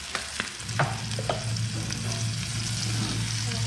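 Egg and soy sauce stirred in a frying pan, a steady close sizzle with scraping utensil strokes and a few sharp knocks against the pan early on.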